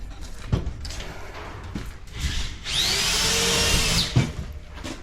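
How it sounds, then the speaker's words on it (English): A power drill bores exterior holes for a 330-gallon oil tank install in a garage, giving one steady whine of about a second and a half after some knocks and handling clatter. "working on drilling the exterior holes"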